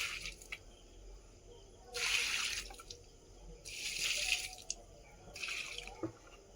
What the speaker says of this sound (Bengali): গাছে জল দিয়ে দিলাম